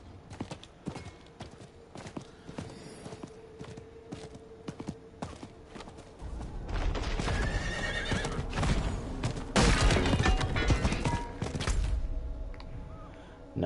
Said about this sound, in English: oh yeah, I can get on my horse